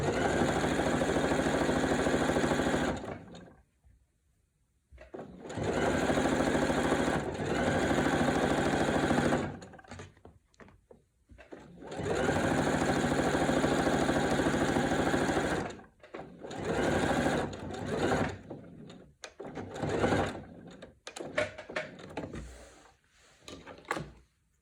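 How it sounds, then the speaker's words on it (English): A sewing machine runs in three long, steady bursts, backstitching the binding on a quilt, with short pauses between runs and a few quieter, choppier stops toward the end. "it's always a good idea to backstitch at this point just to lock your stitches together"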